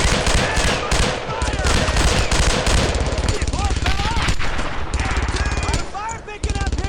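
Heavy automatic gunfire from the World War II video game Brothers in Arms: Earned in Blood, with rapid continuous bursts and loud shots throughout while voices call out over the battle.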